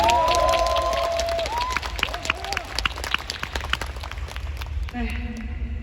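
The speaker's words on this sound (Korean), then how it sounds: "감사의 박수를 보내주셨으면 감사하겠습니다." An audience at a leadership training event in Thailand applauds with a steady, dense patter of many hands, while a raised voice rings out over it at the start and crowd murmur carries on underneath.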